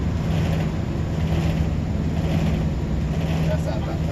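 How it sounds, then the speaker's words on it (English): A failing, overheated compressor on a roughly twelve-year-old walk-in freezer runs with a steady low hum and a faint tonal whine, constant and close throughout. "Yep, that compressor is toast."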